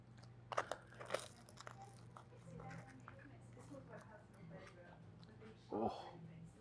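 Crisp Yorkshire pudding being bitten into during a Sunday roast meal, giving a couple of sharp, close crunches early on and another crunchy bite near the end, with soft chewing between.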